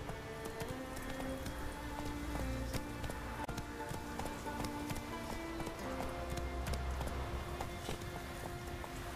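Hooves of Roach, the horse in The Witcher 3, clip-clop in a steady galloping rhythm, loud and close, over a busy bed of game music and ambience.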